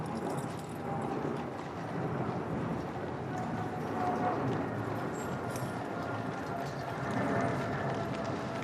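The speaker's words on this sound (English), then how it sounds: "the first of the carriages, the 1902 State Landau that was made for King Edward VII" Hooves of the horses drawing the 1902 State Landau carriage clip-clop steadily in a ceremonial procession through the Great Park, a dense rhythmic patter heard at a distance amid crowd noise and faint voices.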